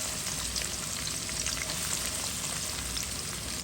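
Onions frying in oil for a rui fish curry, a dense continuous sizzle that stays loud and even from start to finish, no speech.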